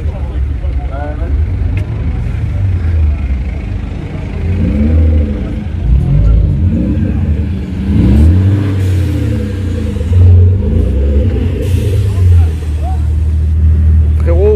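Cars at a car meet in Lyon, France, including Volkswagen Golf GTIs, rumble and rev with deep engine tones that rise and fall, close and continuous, while people talk throughout.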